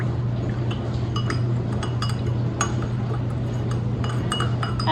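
A spoon stirring sugar into chai tea in a cup, with light repeated clinks against the rim over a constant low hum, close and fairly quiet.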